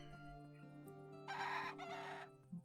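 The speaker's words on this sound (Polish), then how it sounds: "Kogut." A rooster in the video game Above Snakes crows once in a long, bright call over steady synthetic background music, with a short cluck just after.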